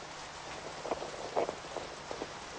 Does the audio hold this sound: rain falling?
yes